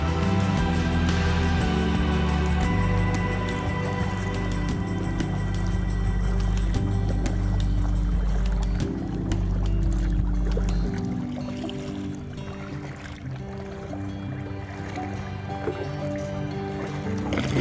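Kayak gliding through shallow, seaweed-filled water off Shell Key Preserve near St. Petersburg, Florida, with a steady low rumble and soft watery swishes throughout, fairly close and continuous.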